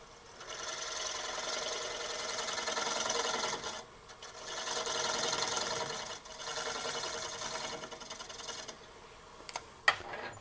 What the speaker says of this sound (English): I'm going to use a skew on its side to get a little cleaner cut.